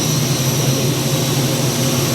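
A 2013 Hurco VM10Ui 5-axis CNC machining center runs its spindle at speed, giving a steady, loud, continuous whine and hum with no pauses or talk.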